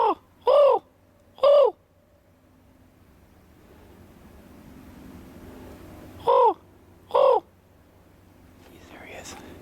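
A person imitates a raven's call outdoors in forest country, giving two pairs of loud, hoarse caws separated by a few seconds of quiet breezy background, the second pair followed by faint distant noise.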